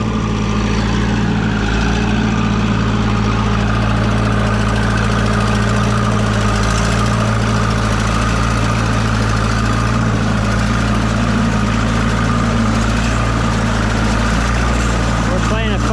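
Classic tractor engine chugging loudly and steadily up close, a continuous heavy idle with knocking rhythm throughout, at a plow day.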